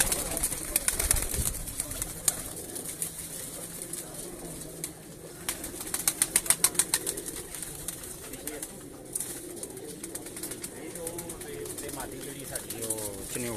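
Breeder pigeons on a rooftop loft in Sheikhupura coo steadily at close range, with a brief flurry of wing-flapping partway through; voices murmur faintly in the background.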